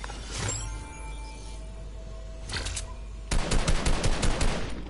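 Video game gunfire: a sharp shot early, another quick burst around the middle, then a loud rapid string of shots closing it out, close and punchy with no talk.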